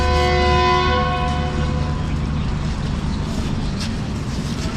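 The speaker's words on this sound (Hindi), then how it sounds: "तो जी हॉर्न हो गया इनिशियल," A loud horn from an early-morning passenger train sounds close by as a sustained harmonic blare that fades out, leaving rumbling rail noise behind.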